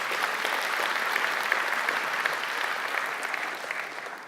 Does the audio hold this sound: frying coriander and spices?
no